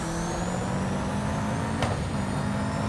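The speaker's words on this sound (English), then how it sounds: "I think that the sounds of the engine are bad" A car engine in the mobile racing game Need for Speed No Limits, a steady droning hum held at an even pitch, with a brief sharp hiss partway through and no speech.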